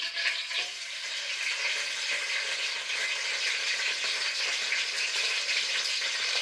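Green chilies frying in hot oil for a Telugu okra and prawn curry: a steady, close, bright sizzle that crackles without pause and with no voices.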